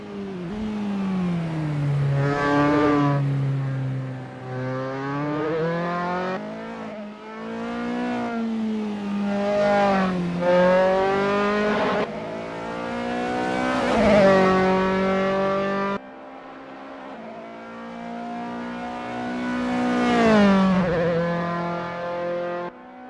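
A Dallara F312 open-wheel race car screams through repeated high-revving upshifts and downshifts in Assetto Corsa at Blackwood, loud and close, rising and falling as it laps with no voices.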